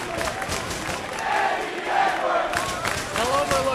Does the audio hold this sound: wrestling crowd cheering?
yes